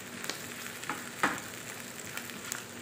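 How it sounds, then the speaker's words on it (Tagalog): Mushrooms and browned onions stirred in a hot pan for a salmon sauce, a soft steady sizzle broken by a few light scrapes and taps of a spoon. "Inilagay na natin ang ating mushroom. Inhalo-haloin natin siya."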